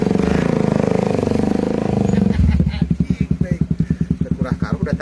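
A motorcycle engine with a pulsing, rhythmic putter becomes prominent in the second half. Before that, people chat in Sundanese over a steady rumble.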